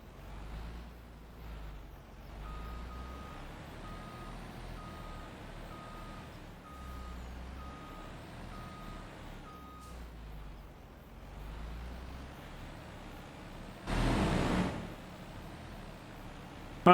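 Truck in a farming video game on Ebony Island drives with a steady low engine rumble while repeated reversing beeps sound at regular intervals, with a brief louder hiss burst near the end.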